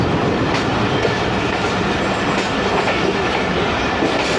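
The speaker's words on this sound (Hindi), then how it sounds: "आजकल ये भी मेन लाइन 1 से जा रही है ट्रेन" Pakistan Express passenger train on Main Line 1 in Pakistan, with a steady, loud rumble of wheels on the rails and a faint clickety-clack running throughout, no voices.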